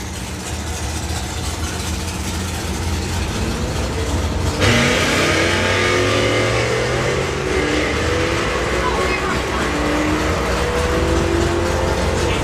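Plymouth Duster drag racing car at a MOPAR drag racing event, its engine roaring loudly and continuously as it accelerates hard down the strip, the pitch rising through gear changes amid steady crowd and track noise.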